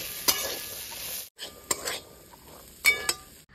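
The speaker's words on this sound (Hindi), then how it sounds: "मसालों को अच्छे से मिला लेंगे।" Boiled chickpeas are mixed with Kashmiri red chili, chaat masala and roasted cumin for chana chaat. A spoon gives a few close, crisp clinks and scrapes against a bowl over a soft, hissy mixing texture.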